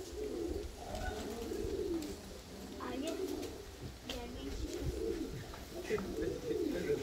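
A flock of Şebap pigeons coos continuously inside a coop, layered throaty calls overlapping at close range with wing flutters, with people talking now and then underneath.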